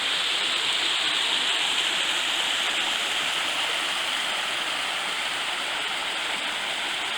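Steady, full rushing of stream cascades pouring through a mountain gorge in New Hampshire's Ossipee range, a constant close white-noise roar with no pauses.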